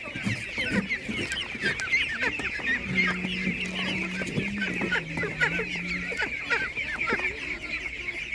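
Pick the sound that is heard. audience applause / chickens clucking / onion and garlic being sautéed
chickens clucking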